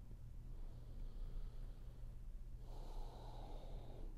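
A long, slow breath drawn during a calm wind-down yoga session, soft airy rushing that swells near the end over a low, steady background hum.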